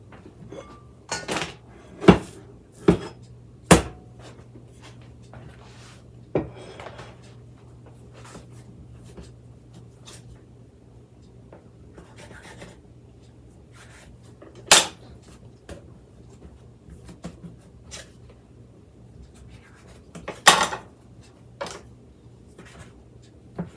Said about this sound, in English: we're going to cut our dough into 20 pieces